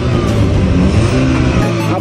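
A car engine runs loud and close, revving with a steady growl that rises and falls over two seconds, while voices mix into the din.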